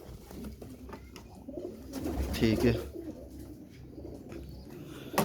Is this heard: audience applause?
no